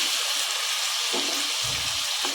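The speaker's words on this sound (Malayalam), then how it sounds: "അപ്പോൾ ഇനി ഇതിലേക്ക് നമുക്ക് ഒരു 1/2 ഗ്ലാസ് വെള്ളം ചേർത്ത് കൊടുക്കാം." Half a glass of water poured into a hot pan of vegetables for a Kerala-style salad gives a continuous loud hiss and sizzle, with a few low bubbling bursts, close and steady throughout.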